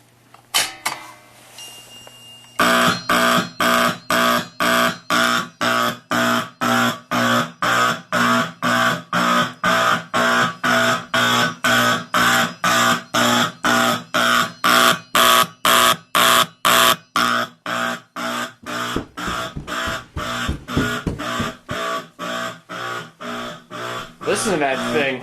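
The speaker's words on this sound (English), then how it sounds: "so let's pull the fire alarm." A building fire alarm sounds during a system test set to march time, a loud rapid pulsing tone that starts abruptly after a quiet moment and repeats in steady close beats for the rest of the clip.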